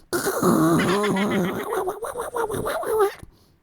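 A voice mimics a fart with a long, buzzy, sputtering lip-trill lasting about three seconds, loud and close, wobbling in pitch before cutting off.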